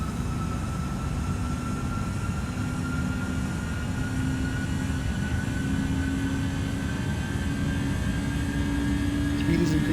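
An Airbus A319 climbs out after takeoff in Microsoft Flight Simulator, a steady unbroken engine drone with faint whining tones slowly rising in pitch, filling the cabin evenly throughout with no talk.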